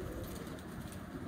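A pigeon kept by a pigeon fancier coos softly a few times, faint and fairly close, with low background rumble and no talking.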